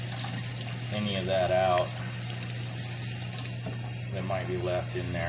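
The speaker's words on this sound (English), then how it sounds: "I want to go ahead and reverse flush this out with some hot water straight out of the tap." Hot tap water runs through a K&P Engineering high-performance oil filter as it is reverse-flushed, making a steady gushing hiss that continues throughout while someone talks over it.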